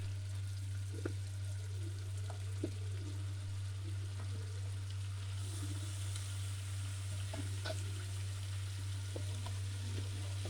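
Ghiya gosht frying in ghee in a pot, a quiet steady sizzle with small scattered pops and bubbles over a constant low hum, no speech.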